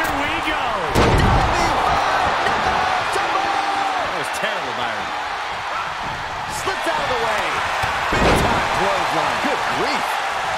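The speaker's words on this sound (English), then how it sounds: "when you can't hear yourself think because the crowd's so loud" Loud wrestling arena crowd from a video game featuring Roman Reigns, The Undertaker and Braun Strowman, a dense steady roar with repeated sharp slam-like impacts rising above it and swelling cheers.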